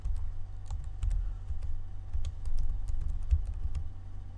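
Someone types on a computer keyboard, a soft scattering of light key clicks over a steady low hum, close and with no talking.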